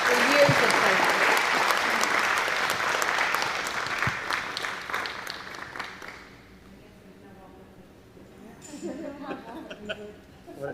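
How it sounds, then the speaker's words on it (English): Audience at an event honoring retiring board members breaks into a big round of applause that is loud for about six seconds and then fades. Speech and scattered sounds follow in a quieter room. "everyone give them a huge round of applause for years of service."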